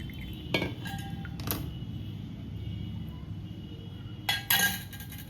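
Leftover ghee is transferred into a storage container, with dishes clinking sharply at a few separate moments over a quiet kitchen background.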